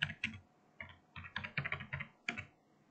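An alarm name goes in on a computer keyboard: a brisk, close run of roughly a dozen crisp keystrokes in uneven bursts, with no talking.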